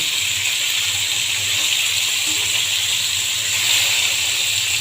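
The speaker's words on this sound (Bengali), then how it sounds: "মাছটা আমি বেশি ভাজবো না হালকা ভেজে নেব" Pieces of katla fish frying lightly in hot oil give a steady, even sizzle with a soft hiss that holds at the same level throughout, with no talking.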